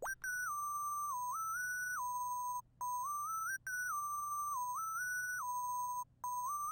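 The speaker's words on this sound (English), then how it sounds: "It's just a counter melody, and it's going to sound like this." A thin, whistle-like synth line playing a simple repeating counter melody in a new wave style beat, with short gaps between phrases and a soft low hum beneath.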